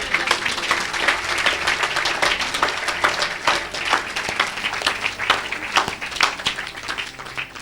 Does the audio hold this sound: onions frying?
no